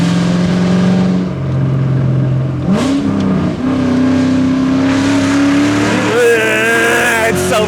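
A 1996 Ford Mustang SVT Cobra engine revs loudly and close up, pitch climbing and falling through several rising sweeps with a brief dip in between, then surging high again near the end.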